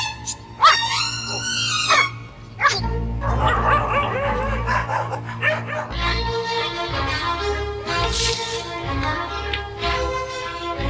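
Dog barking again and again at one spot during a Hindi comedy film scene, sharp yips and bow-wows cutting through loud music and several voices talking.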